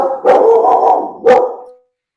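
Dog barking loud and close, a few quick barks that blur into a couple of longer yelping calls, then silence.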